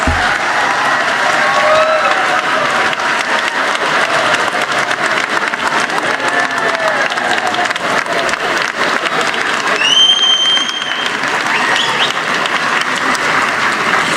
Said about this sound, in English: Big round of applause for our very fine environmental studies graduates.